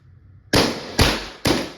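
A Valken M17 less-lethal CO2 pistol fires three sharp, close, loud shots in quick succession, about half a second apart, each cracking out against quiet surroundings.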